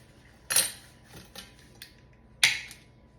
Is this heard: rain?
no